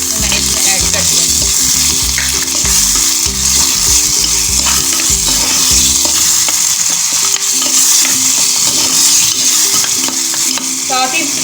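Chopped tomato fries with brain masala in a pan, a loud, constant sizzle broken by the rhythmic scrape and clatter of stirring that fades partway through, leaving the steady frying hiss.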